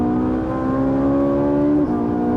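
A Ferrari 458 Italia engine screams at high revs, a loud, steady, tonal wail with a slight dip as it shifts near the end. No talking.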